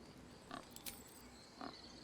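Faint pig grunts and oinks from the video game Baldur's Gate 3, two or three short snorts spaced apart over a low, steady ambient background.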